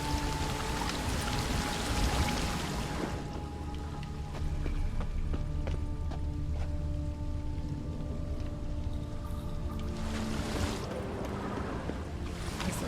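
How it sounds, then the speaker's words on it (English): An upward-flowing waterfall in The Witcher 3 gives a steady, full rushing wash of water that runs unbroken and alone for the whole stretch, swelling slightly near the start and end. "A waterfall flowing upwards."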